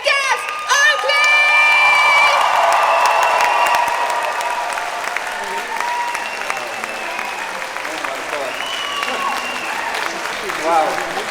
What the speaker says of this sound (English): So let's start clapping our hands, let's start cheering and making some noise for the Avant-Garde vegan Gaz Oakley!